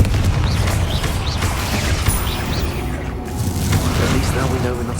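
Confringo fire spell blasts in Hogwarts Legacy, repeated whooshing bursts and crashes mixed into dense, loud combat noise, with a player's voice speaking over it.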